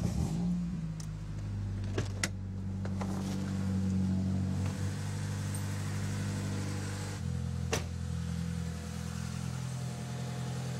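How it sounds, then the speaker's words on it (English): A Honda Accord engine idles steadily with a low, even hum, interrupted by a few sharp clicks and knocks, continuing without any voices. "So start the car before you turn them on"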